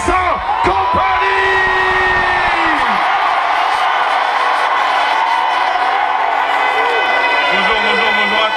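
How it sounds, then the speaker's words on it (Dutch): A large outdoor crowd at the Place des Palais cheers and applauds for Belgian team captain Vincent Kompany, a steady dense roar with whoops and a loud voice over it at the start. "we begroeten met een fantastisch applaus"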